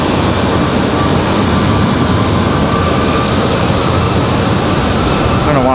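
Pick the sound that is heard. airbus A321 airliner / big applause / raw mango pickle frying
airbus A321 airliner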